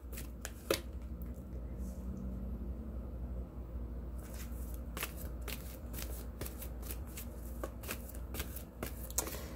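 A deck of playing cards is riffled and shuffled repeatedly, with crisp bursts of flicking cards recurring throughout against a low steady background hum.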